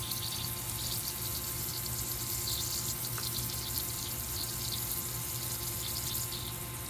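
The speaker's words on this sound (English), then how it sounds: "draining that pipe now, and I'm just going to let it go until it's finished. See it hitting the cloth and going into this pitcher." Water drains steadily from an outdoor hose bib pipe, hitting a cloth and running into a pitcher, making a soft, continuous hiss and trickle with no talk.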